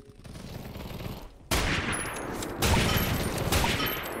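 Rapid gunfire from the video game Krunker.io crackles in dense, continuous bursts that grow louder partway through, with no voices over it.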